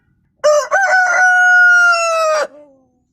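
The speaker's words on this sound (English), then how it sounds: "Rooster." A rooster crows once, loud and close, in a long drawn-out call that opens with a few short choppy notes and then holds a steady pitch before trailing off.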